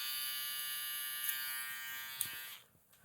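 Cordless hair trimmer buzzing close and steady during a skin fade, a bright high-pitched motor whine with a couple of brief contact clicks before it cuts off near the end.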